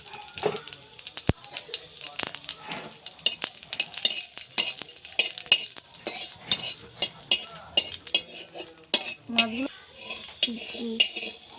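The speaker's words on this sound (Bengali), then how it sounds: "আর একটু জিরে ভেজে নেবো" Cumin and whole garam masala frying in oil in a wok, a soft sizzle under frequent metallic scrapes and clinks of a spatula stirring against the pan, with a person speaking at times alongside.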